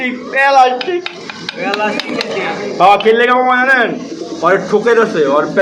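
Pakistani and racer pigeons coo repeatedly in soft, throaty bursts close by at a pigeon market, with a few sharp claps or flutters mixed in.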